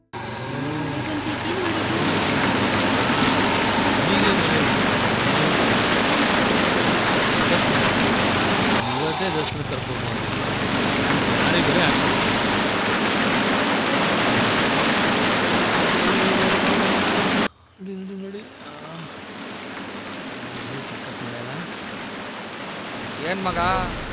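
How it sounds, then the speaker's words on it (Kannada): Heavy rain pours down in a dense, steady hiss that drops off abruptly near the end, leaving softer ambient noise. "ಮೈಗೆ ಈಗ ಮಳೆ ಬತ್ತಲ್ಲ, ಚಳಿ ಚಳಿ ಆಗ್ತೈತೆ"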